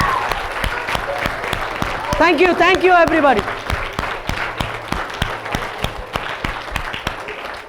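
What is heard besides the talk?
round of applause for code-a-thon participants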